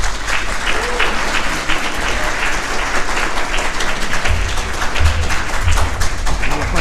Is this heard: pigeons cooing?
no